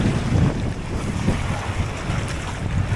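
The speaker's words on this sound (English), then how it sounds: "Wind is a lot higher today than the last time we were here." Strong wind buffets the microphone over lapping waves at Birch Lake during bass fishing from the bank, a steady rough roar with gusty low rumbles throughout.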